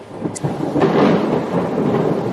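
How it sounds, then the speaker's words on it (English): Heavy rain hitting windows with distant thunder rolling under it, a dense continuous wash of rain and low rumble, fairly loud throughout with no voices. "Heavy rain hitting the windows. Thunder rolling in the distance."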